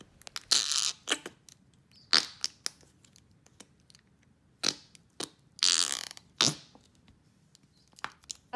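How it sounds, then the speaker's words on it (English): Noise putty squished inside a jar, giving off short, wet, fart-like squelches in irregular bursts with quiet pauses between them, close and fairly soft. "you have to keep it in the jar so that it can make funny,"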